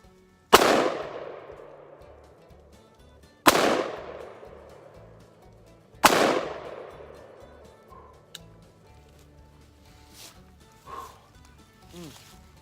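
Three loud AR-15 rifle shots crack at an outdoor range, evenly spaced a few seconds apart, each trailing a long decaying echo, followed by fainter clicks and handling noises.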